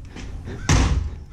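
A car door on an Alfa Romeo Giulia Veloce Spider shuts with one loud, close thud after a moment of faint rustling, followed by a brief dull rumble as it settles.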